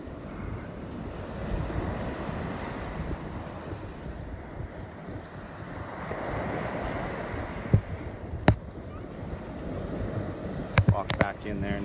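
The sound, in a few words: ocean waves at the water's edge of a sandbar beach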